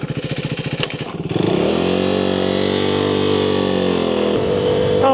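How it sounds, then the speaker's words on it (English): A motorcycle being ridden: a pulsing, chugging engine note that swells into a loud, sustained drone and holds steady, then shifts pitch briefly near the end, close and alone without talk. "we're on the motorcycle today"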